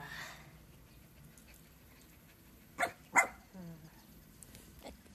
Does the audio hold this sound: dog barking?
yes